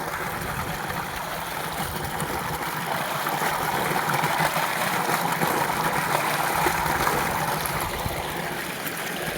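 Water pours continuously from a new 75-foot borewell, making a dense, steady rushing and gushing sound up close that does not let up, with no voices over it.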